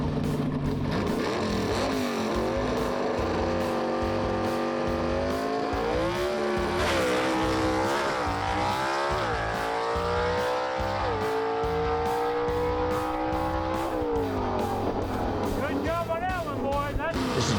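A Southeast Gassers drag-racing gasser car launches at Mooresville Dragway, its loud engine roaring and climbing in pitch through repeated revs and gear pulls for many seconds while an announcer talks over it.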